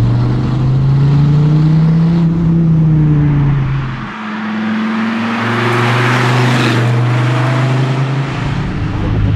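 Dodge Viper ACR GTS-R with its side exhausts exiting just under the doors, engine revving loudly from close range, a deep droning note that dips briefly then climbs again to a strained high-rpm roar.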